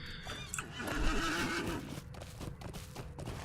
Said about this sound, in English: Can we get on our horse in this area?